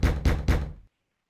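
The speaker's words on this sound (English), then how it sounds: "he heard a knock at his door" Three firm knocks on a wooden cabin door aboard a pirate ship, evenly spaced and close, followed by silence.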